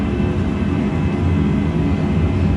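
Airbus A320 simulator engines spooling at full takeoff thrust, a loud, steady roar with a dense low rumble that holds constant throughout, with no voices.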